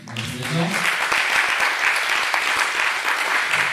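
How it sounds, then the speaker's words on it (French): Audience applause at a French book and music event, a dense steady wash of clapping that swells in after a brief voice at the start and holds loud and even throughout. "Je vous invite, encore une fois, à les applaudir."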